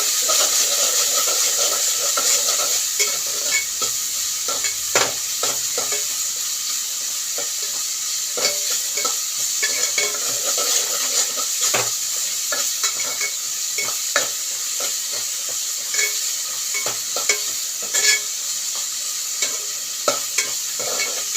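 Tomatoes with coarse rock salt sauté and sizzle in a pan over softened onions while a spoon stirs them, giving a steady frying hiss broken by frequent scraping stirs, close and continuous with no talking.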